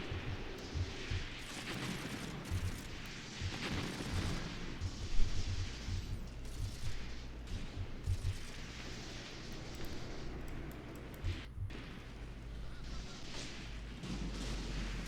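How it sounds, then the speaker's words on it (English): Rapid bursts of coaxial tank machine-gun fire in Graviteam Tactics rattle over a rumbling battlefield, with repeated low booms of artillery and distant explosions throughout. "Got some beautiful coaxial machine gun fire going on there."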